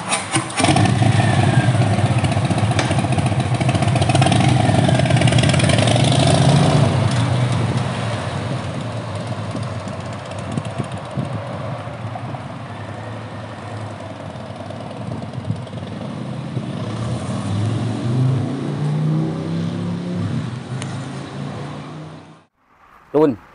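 A 2019 Harley-Davidson Softail Breakout with a Milwaukee-Eight engine and Big Radius exhaust runs close by, a loud steady V-twin idle with revs swelling early and again near the end before it cuts off abruptly.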